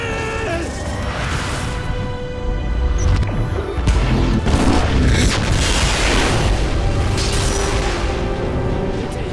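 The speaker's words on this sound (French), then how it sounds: "La planète explose, emportant BT avec elle." A planet exploding in the video game Titanfall 2: loud, sustained booming and crashing blasts with rumbling debris and whooshes, swelling through the middle and staying dense to the end, with no talk.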